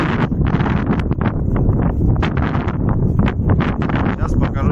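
Strong wind buffets the microphone outdoors at a shooting range, a loud, continuous roar with gusty surges that never lets up.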